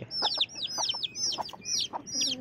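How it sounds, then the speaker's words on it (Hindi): A tota-breed hen with her newly hatched chicks makes soft clucks mixed with bursts of high, falling chick peeps, quiet and near, with no speech. "ये बड़ी खूबसूरत सी है, अच्छी सी मुर्गी है, तोता नस्ल की मुर्गी, तोताइया मुर्गी है ये।"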